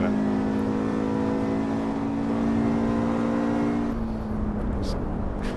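A Mercedes-Benz 190E Evo 2 engine on the Nordschleife drones steadily under power with a constant, close in-car tone, then its pitch drops partway through.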